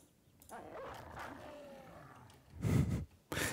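Dogs in a video game bark and growl in a few short, rough bursts, the loudest near the end, over quiet background game sound.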